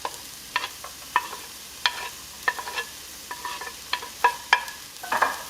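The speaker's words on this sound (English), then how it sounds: "we're going to saute all of our veggies and our tomato, our garlic, onion, and chile" Tomato, garlic, onion and chile are sautéed in hot oil, with a low sizzle under sharp, irregular scrapes and clinks of a utensil stirring the pan, close and fairly quiet.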